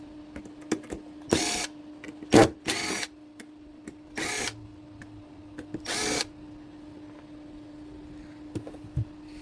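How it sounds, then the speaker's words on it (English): Bottom screws being removed from a mini spotlight hex LED uplight during a repair, with several short whirring bursts of a small powered screwdriver separated by pauses and light clicks, close and moderately loud, no talking. "I'm gonna get these bottom screws out"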